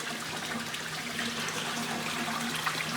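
Water flowing steadily through the pipes of an aquaponic system, a continuous close rushing and gurgling with a low hum beneath and no talk.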